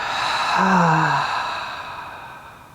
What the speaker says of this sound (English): And then open the mouth. Exhale audibly out.